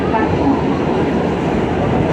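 An R211 F subway train running between Coney Island and 179th Street, with steady loud rumble and rail roar throughout, heard from onboard.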